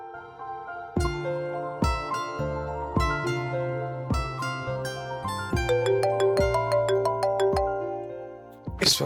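A mobile phone ringtone plays a bright, repeating melodic tune for several seconds, loud and close, with no talk over it.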